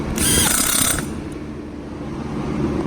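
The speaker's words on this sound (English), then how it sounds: "because these screws are so fine, drive them in there without tapping them" A ratchet drives fine-thread T30 screws into a Sprinter 3.0 intake, giving one dense, close burst of ratcheting that lasts about a second before the work falls quiet.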